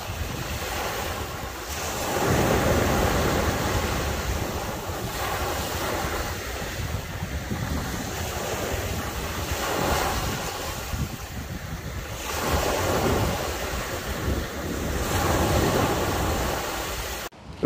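Waves surging and breaking on a beach, a continuous broad roar swelling and easing every few seconds, with strong wind buffeting the microphone.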